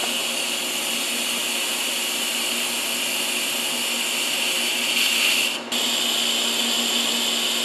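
TIG welding with a continuous cold wire feeder gives off a steady, loud, even hiss and whine close by, holding constant throughout apart from a brief dip near the end.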